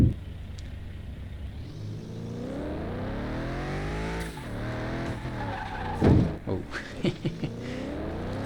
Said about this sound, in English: doesn't do any damage in the game, but we're already crashing the car